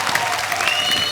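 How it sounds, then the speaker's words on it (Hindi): Loud, sustained applause from a crowd, a dense wash of clapping that fills the whole moment without a break. "जोरदार तालियां"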